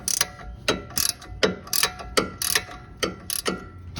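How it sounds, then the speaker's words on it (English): An 18 millimeter wrench working a car control arm bolt, loud close ratcheting clicks in a quick repeating rhythm of about a dozen strokes. "I've got my 18 millimeter wrench. Let's see what we can do here."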